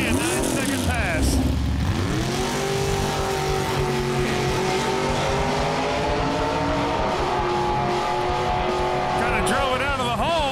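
A drag race car makes a timed pass at a strip: a loud engine roars and climbs through gears, holding a strained high drone with a crowd and announcer voice blended underneath.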